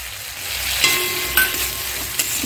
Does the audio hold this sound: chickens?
no